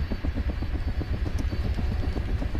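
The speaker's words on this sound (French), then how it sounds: "Et voilà l'hélico qui arrive." A helicopter arrives in the video game Ghost Recon Advanced Warfighter, its rotor thumping in a fast, steady low beat that stays loud and close for the whole moment.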